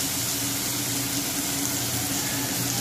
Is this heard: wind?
no